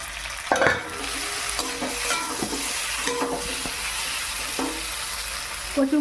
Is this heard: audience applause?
no